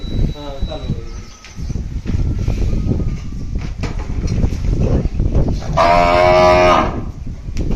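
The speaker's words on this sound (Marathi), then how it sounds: "असा आवाज खणखणीत दीड वर्षाची कालवड आहे" A one-and-a-half-year-old heifer calf moos loudly and close by, a long drawn-out call near the end, with a person talking over farm background noise.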